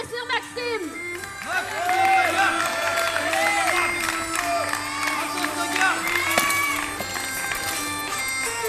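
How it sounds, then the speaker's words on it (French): Crowd cheering and shouting at a medieval armoured combat event, with whoops, children's shouts and scattered clapping swelling and falling, under an announcer's voice. "On encourage messieurs Maxime"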